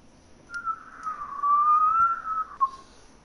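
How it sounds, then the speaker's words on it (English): A person whistles a single plain, sustained note that wavers slightly in pitch, close and clear over quiet background for about two seconds. "That's a regular whistle."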